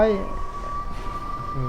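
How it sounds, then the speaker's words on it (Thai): A train rolls past in the Western video game Red Dead Redemption 2: a steady rumbling clatter with a sustained whistle-like tone running throughout, and a brief voice at the start. "รถไฟมาแล้วรถไฟมาแล้ว"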